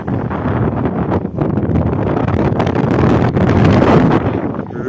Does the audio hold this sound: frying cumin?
no